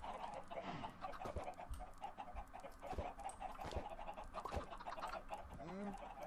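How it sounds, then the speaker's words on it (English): Video game chickens in Minecraft cluck and squawk in short irregular bursts at moderate volume, a busy poultry chatter with faint background tones. "These chickens are ready to escape it"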